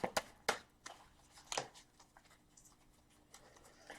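Several quick papery riffles and flicks of tarot cards being shuffled, a few sharp bursts followed by softer handling sounds, close and quiet.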